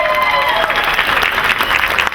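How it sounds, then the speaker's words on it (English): A convention crowd at the Days of the Dead Atlanta panel gives a big round of applause for the Blair Witch Project cast, dense continuous clapping that stays loud throughout. "And one more big round of applause for the cast of the Blair Witch Project"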